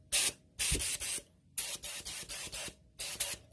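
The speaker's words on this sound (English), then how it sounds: "I'll spray some on something to see how I want to adjust my levers and on my nozzles here up and down" A paint spray gun test-sprays while its nozzle and levers are adjusted for painting a dump trailer, giving short loud hissing bursts, several in a row with brief gaps, close and alone.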